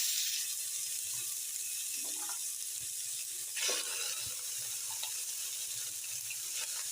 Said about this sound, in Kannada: ಮಟನ್ ಹಾಕ್ಕೊತಾ ಇದ್ದೀನಿ.